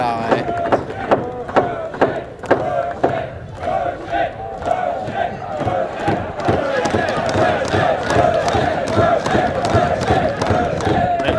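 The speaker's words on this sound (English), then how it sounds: "We've got a chant from the crowd for ProShed" A crowd chants together at a bike polo tournament, steady rhythmic shouting with sharp repeated accents running throughout, loud and close, with speech mixed in.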